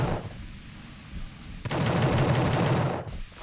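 Rapid automatic gunfire in The Suffering video game: quiet rumbling at first, then a close, loud burst of evenly spaced shots lasting over a second before cutting off.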